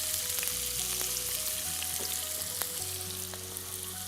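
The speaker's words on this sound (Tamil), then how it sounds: "நல்லா வதக்கிடுங்க." Onions sautéing in a pan for a mutton fry, a steady dense sizzle throughout with faint stirring scrapes and low background tones, no talking.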